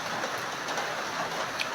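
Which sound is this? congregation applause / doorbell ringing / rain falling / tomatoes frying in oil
rain falling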